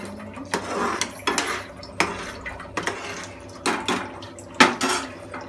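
Palak paneer being stirred in a metal cooking pot, with a series of sharp utensil scrapes and clinks against the pot at an uneven rhythm, close and fairly clear.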